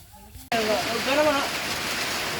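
Heavy rain starts suddenly during a rice harvest in Tangohay, a dense steady hiss that holds loud and close, with a person talking over it.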